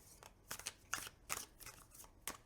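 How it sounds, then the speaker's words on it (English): Quick bursts of riffling paper as slightly sticky tarot cards (China Doll Tarot) are overhand shuffled by hand, about a half-dozen crisp flicks in an irregular rhythm, close and fairly quiet. "I've been calling this hand-to-hand shuffle, and I just learned it's all actually called overhand shuffling."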